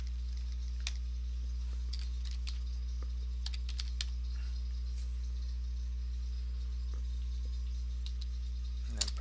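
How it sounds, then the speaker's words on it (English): Someone types on a computer keyboard, sparse scattered key clicks over a steady low electrical hum, close by and alone, with a sharper keystroke near the end like pressing enter. "let's type Windows here"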